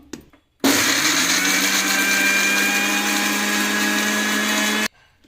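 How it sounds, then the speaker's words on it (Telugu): A mixer grinder starts abruptly, whirs loudly and steadily for about four seconds, then cuts off, with no voices. "ఇప్పుడు మూత పెట్టేసుకొని మిక్సీ పట్టుకున్నాము"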